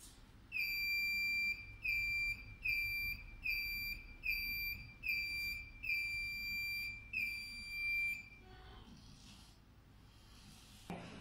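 Shrill electronic buzzer on a smart blind stick with an ultrasonic obstacle sensor sounds in eight rapid repeated bursts, loud and piercing, then stops, leaving quiet background.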